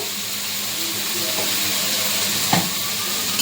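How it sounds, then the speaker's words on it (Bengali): Onions frying in a pan for a goat-offal kosha, a constant close sizzle with soft scraping stir strokes and a short clatter near the end. "পেঁয়াজটা একদম অনেকটাই ভাজা ভাজা হয়ে এসছে"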